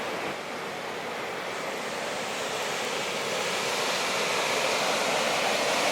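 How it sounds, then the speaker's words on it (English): Agua Sabon waterfalls beside the Trans-Canada Highway, a constant dense rushing roar of falling water, close and steady, slowly swelling louder, with no voices. "now we're at Agua Sabon Waterfalls, right off the Trans-Canada Highway"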